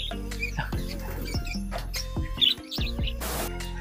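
Pigeons in a stock loft at a racing club in Batangas, with soft chirping, shuffling and scattered bird calls close by, steady low background hum throughout.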